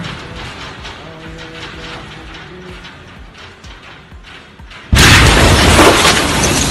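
An explosion blast in footage of the Beirut explosion: a low rumble builds first, then a sudden loud, broad boom cuts in near the end and holds as a roaring wash of noise.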